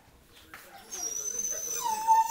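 A dog whimpers while being settled indoors before its owner heads out, a thin high whine that starts faint and grows steadier and louder toward the end, with soft rustling beneath.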